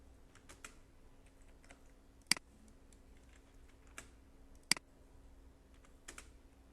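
Commands typed on a computer keyboard in a quiet room: sparse individual key taps with a couple of sharper, louder clacks, spaced irregularly, heard alone without talk.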